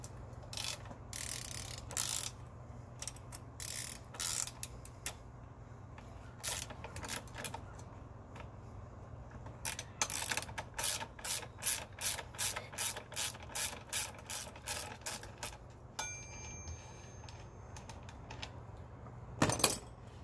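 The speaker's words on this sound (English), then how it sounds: "Now you're going to remove the front axle. So one side is a 14mm, another one 17." A ratchet wrench works on the front axle nuts of a Rosso e-bike, giving close, sharp clicking strokes in irregular runs, then a fast rhythmic series of about a dozen ratcheting pulls, with a few clanks from metal parts.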